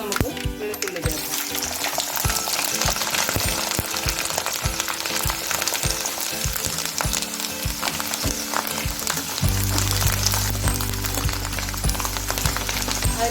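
Mustard seeds and garlic crackle and sizzle in hot coconut oil for a mango pickle, a dense steady frying hiss with small pops, joined near the end by a low continuous hum.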